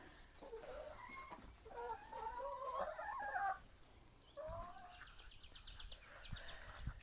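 Chickens cluck and murmur nearby in short bursts, with a few higher squawks and light knocking sounds toward the end.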